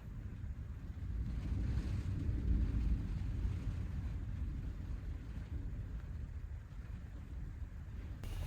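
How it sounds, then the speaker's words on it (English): Wind buffets a van during pouring rain, a continuous low rumbling roar with gusty swells, heard from inside, steady and fairly quiet. "I'm hoping this wind and pouring rain stops soon"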